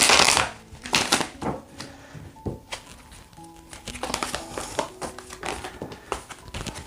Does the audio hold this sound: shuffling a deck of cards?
yes